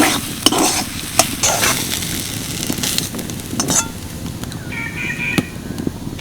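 Filling being stirred in a pan over heat after chopped coriander leaves go in, a steady close sizzle with scraping strokes and occasional spoon clinks on the metal, no talking.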